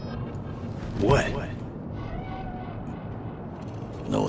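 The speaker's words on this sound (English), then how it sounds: "Do you see it? That cat? Fine-looking feline." A single short meow from a cat in the Cyberpunk game rises over a low city hum, followed by quiet ambience and faint voices.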